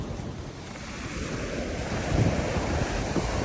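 Strong wind blows around an inflatable tent, making a loud, continuous roaring rush that gusts slightly stronger toward the end, with no voices.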